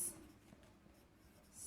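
Pen or pencil scratching on paper during handwritten math work, faint and close, short strokes with a brief louder scrape at the start and end, no talking.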